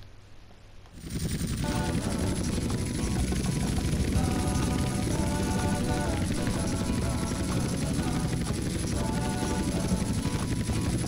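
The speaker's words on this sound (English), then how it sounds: "So landing a helicopter isn't usually too bad." A helicopter flying and coming in to land in the video game GTA San Andreas, a loud, continuous rotor chop and engine roar that starts abruptly and holds steady to the end.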